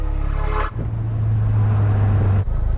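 A 2008 Saturn Sky Redline accelerates hard in second gear, its engine note droning loudly and steadily, briefly dipping in pitch near the start and again near the end.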